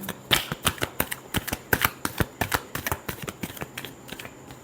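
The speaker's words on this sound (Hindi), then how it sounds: "Last shuffle." A deck of tarot cards is shuffled by hand at close range, a rapid run of crisp flicks and slaps in uneven bursts with short pauses between them, and no talking over it.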